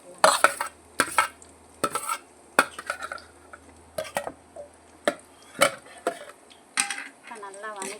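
Small onions and green chillies fry in a pan, a soft sizzle broken by repeated loud spatula scrapes and knocks against the metal, coming in uneven bursts.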